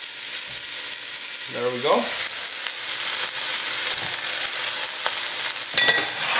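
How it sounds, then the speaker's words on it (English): Six cups of onions hitting a little olive oil in a hot pot, a loud continuous sizzle with a brief clatter as they go in, and a few words spoken near the end. "I'm going to put the 6 cups of onions straight in here."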